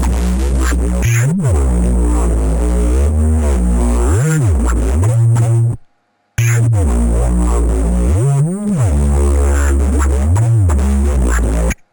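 Heavy, gritty synth bass line run through hardware compression, with swooping pitch bends and a dense, saturated tone, pausing for a moment of silence before repeating.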